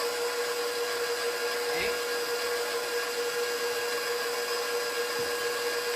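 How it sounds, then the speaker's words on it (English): An electric hand mixer whirs steadily at high speed through low carb pumpkin bread batter, a constant buzzing drone for the whole stretch, with a brief spoken word over it. "I'm gonna mix that up really well"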